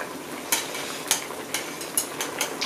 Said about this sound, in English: And it's boiling.